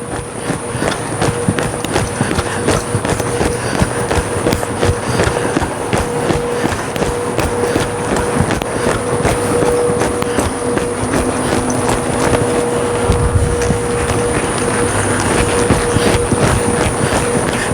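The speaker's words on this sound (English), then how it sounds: "Real nice horse to ride, really nice trot, really nice lope." Rapid rhythmic hoofbeats of a horse moving at a trot and lope, steady and close, with a faint hum in the background.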